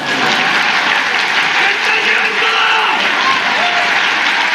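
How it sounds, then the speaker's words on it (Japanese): Loud, sustained applause from a large seated audience honoring guests at FC Machida Zelvia's 2019 new-squad presentation in Japan, a dense even roar of clapping that holds steady throughout with faint voices beneath. "ご来賓の皆様に今一度大きな拍手をお願いいたします。"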